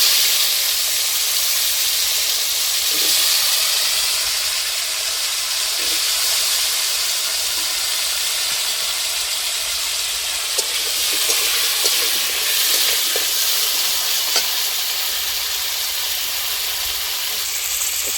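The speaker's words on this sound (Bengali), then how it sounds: "তো আমি আলুটা ভাজতে দিচ্ছি।" Potatoes fry in oil already used for frying fish, giving a steady, fairly loud hiss and sizzle that runs the whole time, with a few faint clicks near the end and no talking.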